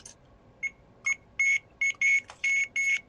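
A series of sharp electronic beeps from a Delkim fishing bite alarm, close and loud, coming in short bursts with brief pauses between, growing more frequent toward the end.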